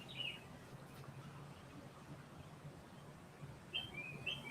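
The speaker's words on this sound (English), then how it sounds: "I hear a bird singing somewhere." A few faint, high bird chirps sound at a distance, one near the start and a pair near the end, over a steady low hum.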